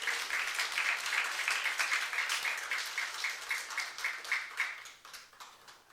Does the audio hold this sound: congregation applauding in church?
yes